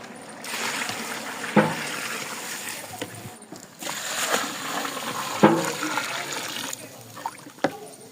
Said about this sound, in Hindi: अभी डालेंगे इसमें पानी